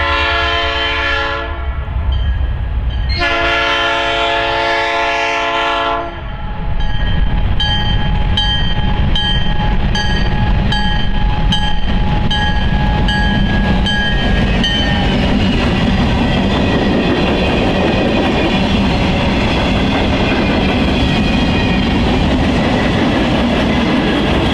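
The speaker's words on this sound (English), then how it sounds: "Finally, we caught the train at Waterloo, where it would make a brief stop to drop off a few gondolas on the rear of the train" A freight train pulls into Waterloo with gondolas on the rear, sounding two long, loud horn blasts, followed by the heavy, continuous rumble and clatter of passing cars with squealing tones.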